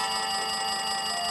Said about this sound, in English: It looks like the phone is ringing.